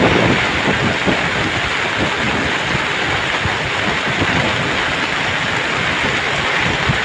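Strong wind roars over a boat at sea amid rain, a loud, constant, dense rush that fills the whole clip without letup and with no voices.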